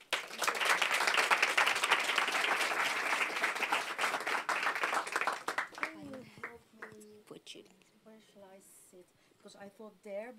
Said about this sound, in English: Give Funda a round of applause.